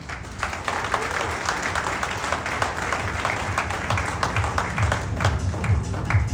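Audience at a Jivan Daan foundation meeting in Yamunanagar clapping in support, a loud continuous crowd applause with individual claps standing out, steady for several seconds.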